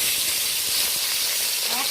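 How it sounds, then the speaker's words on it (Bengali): Pieces of bhetki fish fry in hot mustard oil with a steady, close hiss and sizzle that fills the whole stretch, and a faint voice is briefly heard near the end. "অল্প অল্প মাছ দিয়ে মাছগুলো সব ভেজে নিতে হয়"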